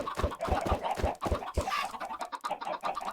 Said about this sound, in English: got me a high yield of chicken